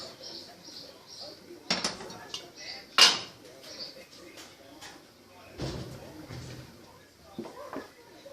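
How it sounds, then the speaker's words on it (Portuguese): Metal pots clank and clatter as one is pulled out, with a couple of sharp knocks, quiet rummaging, and soft speech in between. "Vou pegar uma panela."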